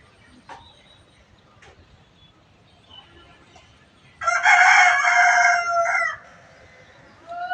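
A rooster kept on a rooftop garden crows once, a loud, near, two-second call rising out of a quiet stretch with faint background noise and a voice before and after it.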